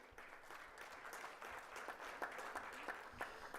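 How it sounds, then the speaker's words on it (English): Sustained audience applause fills a hall at a 4-H livestock judging awards ceremony, a steady dense wash of many hands clapping throughout. "I know you've clapped a lot, but it's okay."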